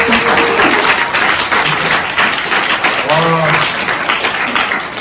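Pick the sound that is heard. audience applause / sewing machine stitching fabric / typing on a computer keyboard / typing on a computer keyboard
audience applause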